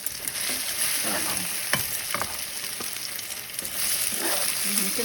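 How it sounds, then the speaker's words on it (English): Chilaquiles ingredients frying in a pan and being stirred, a steady sizzle with scraping and clacking of the utensil against the pan, close and continuous. "So I'm going to stir both and see if that's enough."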